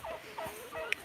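Turkeys on a farm give a few soft, quick gobbling calls, faint and close together over about a second, with no talking.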